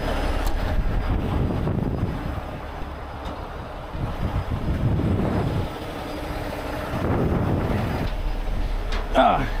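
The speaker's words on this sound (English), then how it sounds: "what a day to be windy" Wind buffets the microphone in low rumbling gusts, rising and falling throughout, with some faint background noise.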